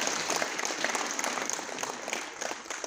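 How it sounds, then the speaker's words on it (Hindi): Sustained applause from a crowd at an Amrit Kalash Yatra flag-off event in Jammu and Kashmir, steady and dense clapping throughout with no voices standing out. "जोरदार तालियां इस मौके के लिए"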